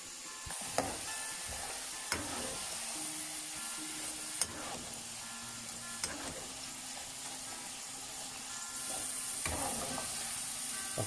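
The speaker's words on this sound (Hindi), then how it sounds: "तो इंशाल्लाह हम इसमें फिश डिप करके इसको तलेंगे, फ्राई करेंगे।" Battered fish fries in hot oil for fish and chips with a constant, bright sizzle, punctuated by a few sharp utensil taps and clicks at irregular intervals.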